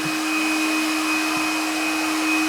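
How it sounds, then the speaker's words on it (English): A loud, steady blowing drone of a heat gun running continuously nearby while drying fresh paint on a Toyota Corona, with a constant whine and no other sounds. "That's why I've got a little heat gun over there. That's what makes all the noise."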